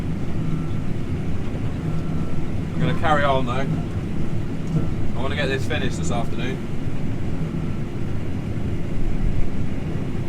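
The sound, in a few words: combine harvester working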